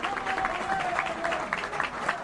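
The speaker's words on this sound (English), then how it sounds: "listen to the crowd as they cheer their players off the pitch" Rugby league crowd at Oldham versus Hull Kingston Rovers in Stalybridge applauding and cheering the players off the pitch at half-time, a steady wash of distant clapping and crowd noise.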